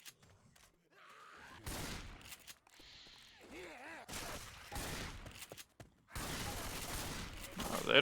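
Shotgun blasts in a Left 4 Dead versus match ring out in several loud bursts between stretches of game noise, with infected groans and other effects mixed in.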